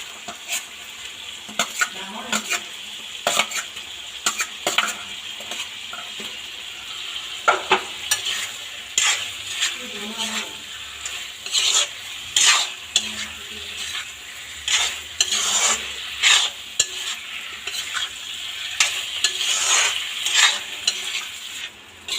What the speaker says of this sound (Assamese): এতিয়া মই ভাজি থোৱা আলুখিনি দি দিম